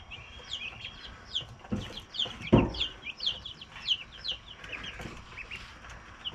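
A backyard flock of chickens clucks in quick, scattered bursts, moderately close, with a sharp knock partway through and no talking.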